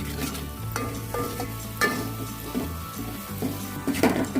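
Malvani masala paste sizzles and fries in hot oil in a pot, a steady crackling hiss with a few soft stirring scrapes, close and moderately loud with no talking.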